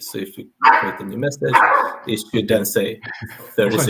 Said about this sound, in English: that's my dog just making some trouble